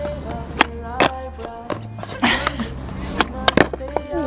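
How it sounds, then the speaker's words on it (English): A cheap skateboard pops and clacks against the ground as a rider attempts an ollie, with wheels rolling and a few footsteps on pavement. "We'll start off simple with your basic bog standard ollie."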